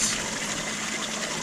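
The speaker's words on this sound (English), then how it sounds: "it's a DC pump with a controller" A DC water pump with a controller runs at low power in a tub holding sturgeon, giving a steady, even hiss and gush of moving water with no breaks.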